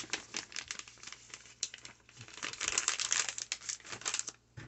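Plastic poly tubing bag for a 10 lb mushroom log being bunched up by hand, giving continuous close crinkling and crumpling that swells and fades, alone with no talk.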